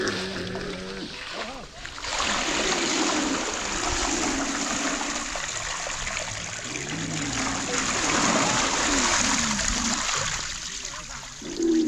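Water pours and splashes out of a bucket lifted by an animal-driven well wheel at Bijnot Fort in Cholistan, Pakistan, a continuous nearby gushing and trickling with faint voices underneath.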